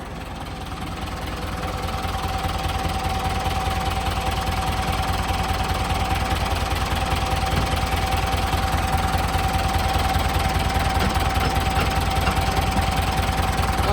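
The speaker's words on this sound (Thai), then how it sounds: "ก็จะมีเสียงดัง เสียงลั่นโซ่ครับ โซ่ตึงไปหน่อยนะครับ ก็มีเสียงลั่นหน่อย" A 1996 Ford 6640 4x4 tractor engine running with an over-tight chain, giving a steady, close idle with a fast, even knocking rattle that grows slightly louder over the first seconds, with no voices.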